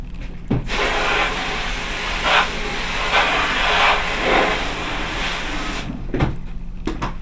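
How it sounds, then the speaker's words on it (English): A plaster trowel used for fine marmorino Venetian plaster is rinsed under a running tap: a steady rushing hiss of water for about five seconds, then a couple of sharp knocks as it stops. "Washing my tool real quick."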